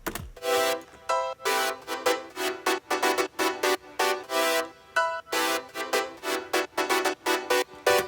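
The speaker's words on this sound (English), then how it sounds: "After that I started making some simple chord progression that sounds like this." A simple synth chord progression in 90s house style plays alone, loud and steady: rhythmic chord stabs repeat in a regular pulse with short gaps between them.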